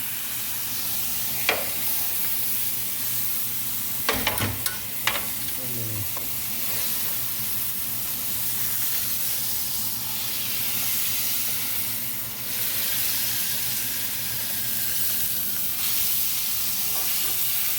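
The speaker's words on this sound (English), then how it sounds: "Sizzling." Constant close sizzling and frying hiss of a rib roast, with a few clanks and scrapes of a utensil moving the meat around partway through; no talking.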